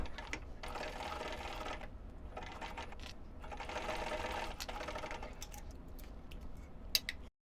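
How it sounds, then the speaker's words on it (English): A sewing machine stitches a zipper seam on a pouch, running in steady close bursts with brief pauses between them and a small click near the end. "Needle down, and I'm going to sew all the way down to the other end and back stitching at both ends."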